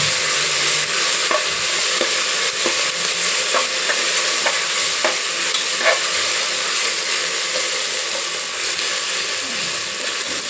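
Two tablespoons of ginger garlic paste fry in a pan for avarekai rice, giving a constant close sizzle with regular spatula scrapes and taps repeating every second or so, no voices.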